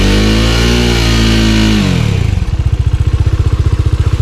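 Loud, close Bajaj Dominar 400 UG motorcycle engine holding a high rev, then falling off into a rhythmic, thumping idle with steady putting beats.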